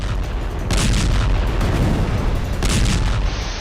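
Deep, continuous rumbling booms from bombing in Gaza, loud and close, swelling in two broad bursts over a sustained low roar with no voices.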